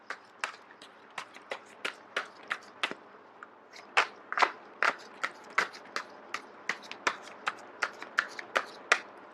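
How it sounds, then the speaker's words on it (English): Tarot cards being shuffled by hand, a steady run of crisp riffling snaps repeating quickly and close up, with no talking. "I am going to shuffle until the first card drops out"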